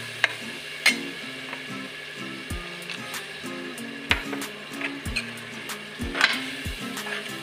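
Mutton kofta frying in a pan for Hyderabadi biryani gives a steady sizzle, with repeated scraping and clinks of a spoon stirring against the pan, close and clear.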